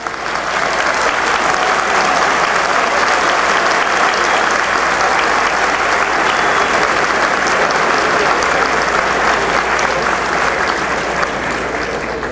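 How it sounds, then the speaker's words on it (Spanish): A large audience applauds at an engineers' professional registration ceremony, loud dense clapping that holds steady throughout without a break. "siempre cuando mencionamos al último ingeniero, los aplausos son a rabiar"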